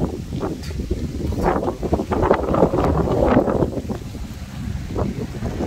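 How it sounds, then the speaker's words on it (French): Violent foehn south wind storm roaring across the microphone in heavy, continuous gusts, with buffeting blasts and loose objects rattling close by, loud and sustained throughout. "Ah oui, y a pas de doute, c'est bien le vent de sud."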